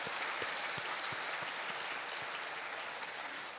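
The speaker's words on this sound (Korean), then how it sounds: "격려하는 의미에서 우리 박수 한번 보내드렸으면 좋겠습니다" A church congregation gives a round of applause during a Sunday Advent service, an even, sustained wash of clapping heard at a modest distance with a few sharper claps poking through.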